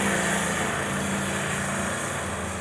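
A small motorcycle engine runs at a steady, loud idle, close by, with no talk over it, as the bike is readied for a Class C licence riding test in Indonesia.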